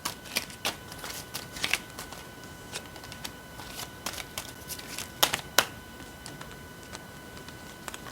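Tarot cards shuffled by hand, producing repeated crisp riffling bursts and soft taps at close range in a quiet room.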